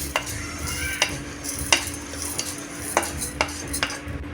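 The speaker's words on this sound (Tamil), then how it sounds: "நல்லா இந்த அளவுக்கு செவந்து வர வரைக்கும் வறுத்துக்கணும்" Green gram being dry-roasted and stirred in a pan, with scraping strokes of a spoon repeating every second or so over a steady low sizzle, close and moderately loud, no talking.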